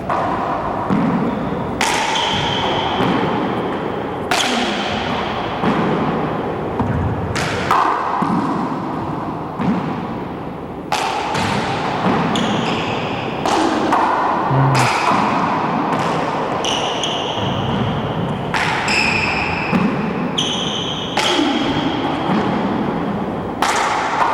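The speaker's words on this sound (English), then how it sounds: "Good defensive shots by David to keep him in the rally here" Racquetball rally at a 1994 four-wall national championship match, sharp ball impacts and wall thuds cracking out every second or two in an echoing court, over a steady crowd and room ambience.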